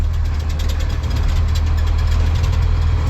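Cummins 5.9 12-valve diesel truck engine with its turbo, a steady loud low rumble of the running diesel with a faint higher whistle on top, no talk.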